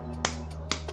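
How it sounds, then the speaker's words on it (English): A bread maker's dispenser releasing yeast and raisins, two sharp, loud clacks about half a second apart with fainter ticks between, over a low steady machine hum. "That's just the bread maker dispensing the adders, the yeast and the raisins"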